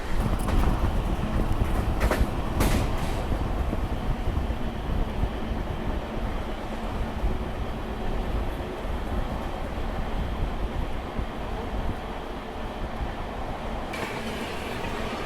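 The Doodh Duronto Express milk train passes close by, a loud steady rumble of wheels and wagons with rattling clatter, a few sharper knocks near the start and no voices over it.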